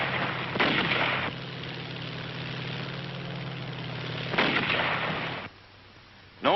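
Two heavy booms from a 105mm howitzer firing during WWII on Iwo Jima, spaced a few seconds apart over a low, steady engine-like rumble that briefly drops away near the end.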